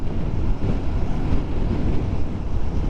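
Steady, strong wind buffets the microphone in a continuous low roar at a baywalk, with a faint wash of surf underneath and no voices.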